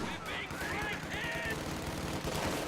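Rapid machine gun bursts crackle through a real-time strategy battle, mixed with other gunfire and game noise, a steady mid-distance clatter with a short high whine as units fight.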